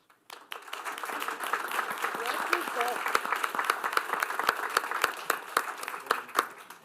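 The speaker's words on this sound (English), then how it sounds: "I want to give you another round of applause for that." Audience applause at a school district board meeting, a dense wash of many hands clapping that runs steadily for several seconds at moderate loudness, with faint voices mixed in.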